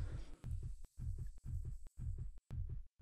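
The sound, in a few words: heartbeat sound in Black Clover Mobile video game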